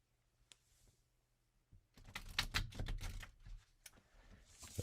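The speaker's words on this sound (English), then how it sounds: "I'll be shuffling over here." Cards are shuffled nearby: a quiet tap or two, then a burst of dense, rapid fluttering clicks that trails off.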